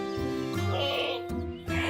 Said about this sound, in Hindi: ये बकरा कितना शरीर है